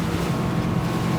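A Ranieri Cayman 45.0 Cruiser RIB with a two-step hull runs fast on open water near Palmaria and Tino, giving a continuous low roar of engine and hull laced with heavy wind buffeting.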